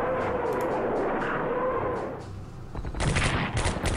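Rapid bursts of gunfire hit an anti-aircraft gun near Kharkov in the Strategic Command 1939 Storm over Europe strategy game, a steady rattle followed by a brief lull and then louder, sharper volleys.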